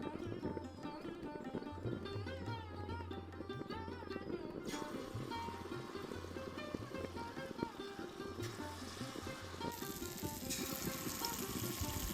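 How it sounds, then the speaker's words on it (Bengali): Jackfruit fritters frying in hot mustard oil over lowered heat, a soft continuous sizzle with gentle bubbling close by, while faint music plays underneath. "এবার গ্যাসটিকে কমিয়ে এঁচোড়ের বড়াগুলো ভেজে নেব"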